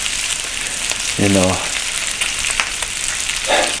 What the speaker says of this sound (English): the bacon is in the pan, frying up, looking really good